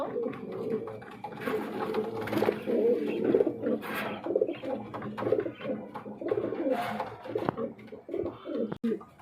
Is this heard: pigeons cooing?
yes